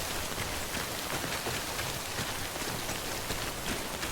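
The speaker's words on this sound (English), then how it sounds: "I gotta get out of this rain." Heavy, steady rain hisses down continuously, dense and close, with no voices, in the video game Death Stranding.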